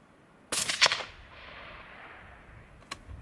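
A rifle chambered in .22 Creedmoor fires at a rockchuck while hunting outdoors, one sharp loud crack trailing into a long fading echo, then a faint second report near the end.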